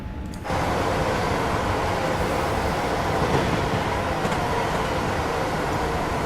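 A train running through Primrose Hill tunnel in Train Simulator 2019 on the Milton Keynes to London Euston route makes a loud, steady rumbling roar that swells in sharply after a brief quieter moment.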